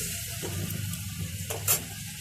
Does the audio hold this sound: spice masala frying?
yes